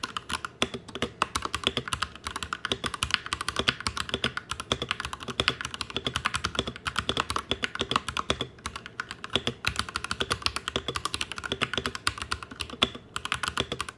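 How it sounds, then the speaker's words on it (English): Rapid, continuous clacky keystrokes from a Royal Kludge RK96 mechanical keyboard with RK yellow switches, close up and crisp, typed in a steady flurry with no voices. "the tippity-tap test of the keyboard itself"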